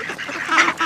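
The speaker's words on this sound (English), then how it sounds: "Are you trying to feed the ducks?" Ducks and geese being fed give a quick run of close, loud honking quacks that overlap in two bursts with no speech.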